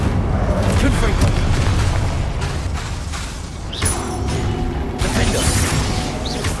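Confringo fire spell blasts in the Hogwarts Legacy video game, heavy booming explosions rumbling and crashing in close succession, with a sharp burst near the middle and another toward the end, loud and full throughout.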